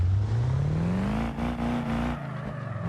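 Ford King Ranch pickup truck with automatic transmission in the BeamNG driving game, its engine revving up steadily and holding a high, loud drone before dropping back, continuous and close with no talking.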